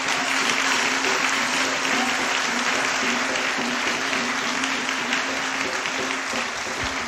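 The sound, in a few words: church congregation applauding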